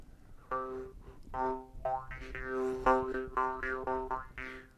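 Jaw harp twanging in a series of plucked, buzzy notes, close and fairly loud, with a shifting vowel-like tone between strums.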